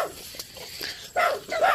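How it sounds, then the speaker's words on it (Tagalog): A dog barks in a rural area near a cornfield, two short, fairly loud barks close together near the end after a few softer sounds, with no one speaking. "May aso, guys."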